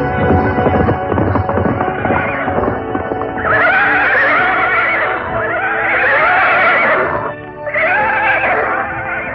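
Several horses neigh and whinny loudly in a radio drama as mounted troops arrive, the calls rising and falling in repeated bursts over a steady bed of hoofbeats and music, with no talk.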